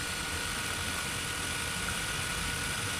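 A Bosch GDR 120 Li 12-volt cordless impact driver runs steadily at its first speed setting, a constant, loud, even motor whir with no breaks and no voices.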